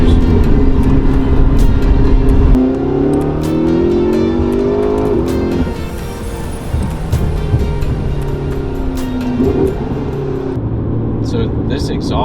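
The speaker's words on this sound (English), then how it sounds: "So this exhaust sounds really good until it gets into that higher RPM range, and then it's got a little bit of a rasp to it" A car fitted with aftermarket downpipes revving through the gears, its exhaust droning loudly up and down through rising and falling pulls, turning raspy at higher RPM, with a person talking over it from inside the car.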